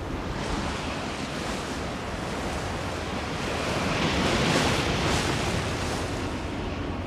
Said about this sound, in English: as winds and the sea rise